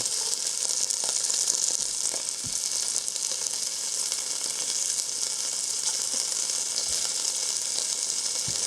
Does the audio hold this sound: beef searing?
yes